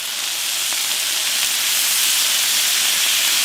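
Shrimp and lobster tails sizzle on a grill in a steady, bright hiss that holds evenly throughout, close and fairly loud, with no voices.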